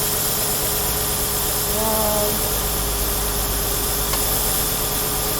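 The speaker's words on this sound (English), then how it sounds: "So the engine is running now." A Peugeot 407 Coupé V6 automatic with an overheating fault idles steadily with a constant low hum and mild vibration, no voices over it.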